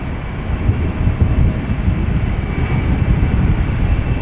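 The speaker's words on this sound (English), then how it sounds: "Regular Cargolux Italia going to Luxembourg, coming this way." A Cargolux Italia cargo aircraft bound for Luxembourg passes at Amsterdam Schiphol Airport, giving a loud, steady broadband jet roar that holds throughout.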